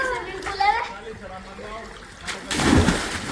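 Water splashes and runs out of a container while a child is bathed outdoors near a well; voices talk over the first part before a louder, broadband splash and gush near the end.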